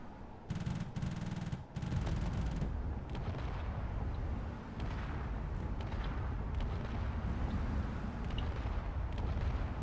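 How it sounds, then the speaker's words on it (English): Dense, continuous gunfire pours toward a single fighter in a drone battle video game, a sustained roar of rapid shots and rumbling blasts with brief bursts of heavier fire early on. "There's a lot of bullets coming out towards this single fighter."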